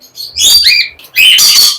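Pet birds such as cockatiels, budgerigars, lories and ringnecks squawk loudly at the Mirpur bird market, two harsh, close screeching calls in quick succession with no voices over them.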